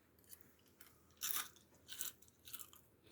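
Crisp crunching bites of stir-fried dried shrimp come in three or four short close bursts over a quiet background, with no talk.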